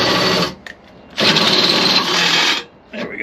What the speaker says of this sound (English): So now this lower bracket, I just have to drill another hole in here